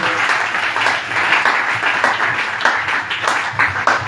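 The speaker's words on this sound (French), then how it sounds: "acclamons plus fort pour cette prophétie" A church congregation applauding a prophecy, loud sustained clapping from many hands filling the room, with scattered cheers and voices mixed in.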